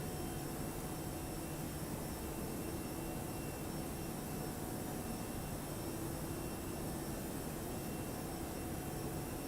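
Jet engines of a ToLiSs A321 airliner in X-Plane 11 climbing after takeoff, a steady, loud broadband roar with a constant hum and no change in level throughout.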